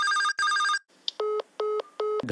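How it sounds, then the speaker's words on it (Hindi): A telephone rings in two long electronic bursts, then a gap, then three shorter evenly spaced rings. The tone is loud and close, with no voices. "घंटी जाती है पर कोई आंसर नहीं करता।"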